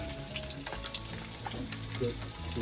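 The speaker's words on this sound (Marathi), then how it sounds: "त्यानंतर तेलात टाकलो कांदो. त्यानंतर येऊ टाकलेला आहे लसूण." Chopped onion and garlic sizzle steadily in hot oil for a prawn fry, a close crackling hiss with occasional stirring scrapes.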